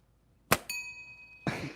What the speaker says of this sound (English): Trying to get that little bell again.